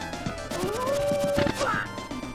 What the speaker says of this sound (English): Oh, look at that, I was defeated by his howl.